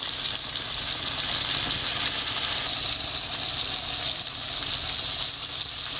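Potato biryani masala with rose water is stirred in a kadai, giving a steady, even sizzling hiss that runs throughout without talk.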